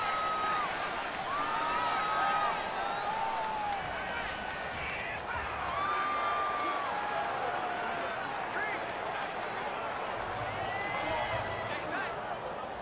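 Simulated stadium crowd in the Madden NFL 19 football video game, a continuous loud roar of many voices with cheering swells, heard alongside a commentator's voice.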